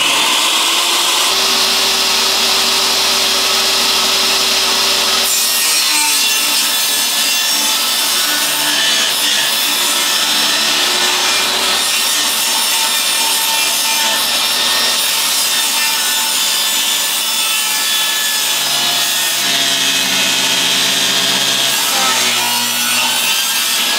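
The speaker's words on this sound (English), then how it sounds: "I first need to get that thing through the table saw and start getting some pieces made" A table saw rips lengths of wood into long strips, a loud continuous whining buzz with the pitch dropping and rising as the blade bites the board, running alone for the whole stretch.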